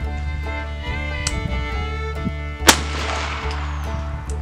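One sharp shot from a Colt Service Model Ace .22 pistol fired at a target cracks out loud and close over a steady background hum, with a few faint clicks around it.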